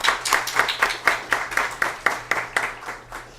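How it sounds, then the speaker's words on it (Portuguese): Audience clapping at an OAB SP legal seminar, a steady run of about a dozen distinct claps in an even rhythm, moderately near, with a low hum underneath and no talk. "uma salva de palmas ao doutor Humberto, que chega aqui nesse momento."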